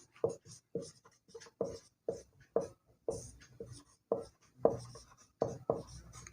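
Chalk or marker writing on a board in a maths lesson, a run of about a dozen crisp, rhythmic strokes and taps, close and clear with no voice over them.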